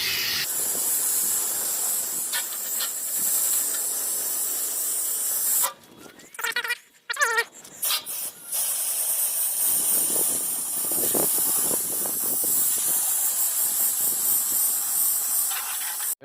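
Steady loud hiss of a pressure water spray rinsing foam off a car after washing with a foam gun, running continuously close by with a brief break and shifts in tone.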